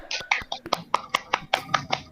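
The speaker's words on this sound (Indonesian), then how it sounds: "Mari kasih tepuk tangan untuk dia" A small class clapping for a student, a sparse run of about a dozen sharp, distinct hand claps at an uneven pace, close and fairly clear, with no voices.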